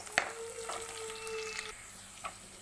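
Chopped coconut frying in spices for coconut pickle, heard as a quiet sizzle broken by a few sharp scraping knocks as it is stirred, with no voices.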